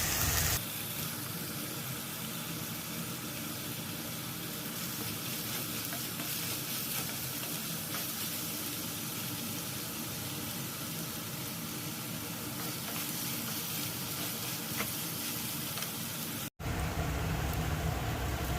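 Vegetables for vegetable upma fry in a pan with a loud, continuous close-up sizzle that holds steady throughout, briefly cut near the end before resuming.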